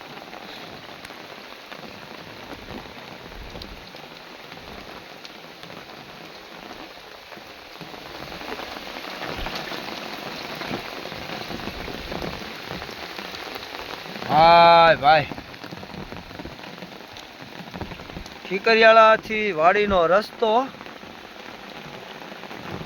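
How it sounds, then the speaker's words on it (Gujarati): A heavy downpour hammers down steadily near Thikariyala village in farm country, a continuous hiss of rain on surfaces, with someone speaking briefly over it twice toward the end. "ચાલુ વરસાદ અત્યારે ધોધમાર વરસાદ આવે છે"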